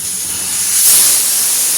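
Mutton boiling in a covered pot gives off a loud, steady hiss of escaping steam that swells slightly midway and never pauses.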